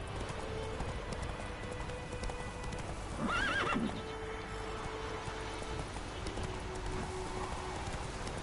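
Roach, a horse in the Witcher 3 video game, trots through rain with a steady clip-clop of hooves over a constant rain hiss, and a short whinny breaks in partway through.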